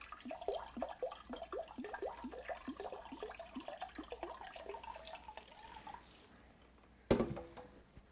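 Filtered water poured from a container into a bowl for a raw vegan durian pudding, a steady glugging stream for several seconds that stops, followed by a sharp clunk.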